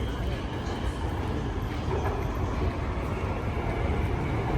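A train rumbles through a Prague metro station, a loud, continuous low roar and rattle that fills the platform without letup from start to finish.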